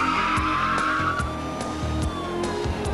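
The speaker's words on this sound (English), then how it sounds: "Indiana State Trooper Richard Rice observes the suspect vehicle and starts his pursuit." A car pursuit on a highway during a police chase, with a long drawn-out tire squeal and a revving engine, loud and close, punctuated by a few sharp knocks.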